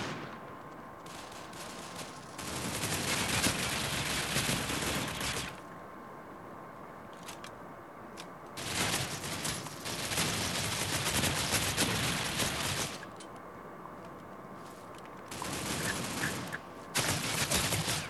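Bursts of rapid gunfire in a PUBG or Critical Ops match, loud sustained volleys lasting a few seconds each, separated by quieter pauses, with no talking.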